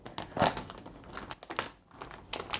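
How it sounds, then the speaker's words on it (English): Crinkling and rustling from the zippered protection cover of a split air conditioner as it is opened, with close, irregular plastic crackles and one louder rustle early, no talking. "So to open the protection kit, we have a zipper. We need to open it."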